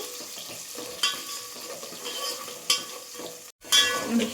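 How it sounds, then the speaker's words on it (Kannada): Chopped onions fry in a pan for a fenugreek-leaf (menthe soppu) sambar, giving a steady close sizzle broken by a few sharp scraping clacks as they are stirred, with no talk. "ಈರುಳ್ಳಿ ಎಲ್ಲ ಚೆನ್ನಾಗಿ ಫ್ರೈ ಆಗಲಿ ಫುಲ್ ಬ್ರೌನ್ ಕಲರ್ ಆಗಬೇಕು"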